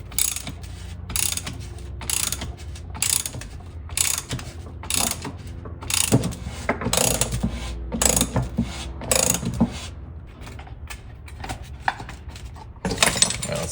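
Puller working a part off the crankshaft of a 1940 Maytag twin-cylinder engine, giving a close run of irregular metallic clicks, ratcheting and clanks with no talk.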